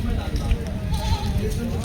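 A goat bleats at a busy livestock market in Bargari. The bleats are close and repeated over a low crowd murmur with overlapping voices.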